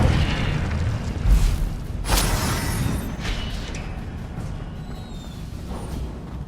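An Incendio fire spell cast in Hogwarts Legacy bursts with a low boom and a whooshing, crackling roar that fades over several seconds.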